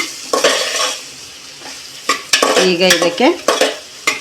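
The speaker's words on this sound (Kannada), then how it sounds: "ಇಲ್ಲಿ ಕಾಯಿ ಮೆಣಸನ್ನ ರುಬ್ಬಿರೋದು ಹಾಕ್ತಾಯಿದ್ದೀನಿ ನಾನು" Ground coconut and chilli paste sizzles in a hot pan for pulao while a spoon stirs and scrapes in sharp, close bursts, with a few brief spoken words.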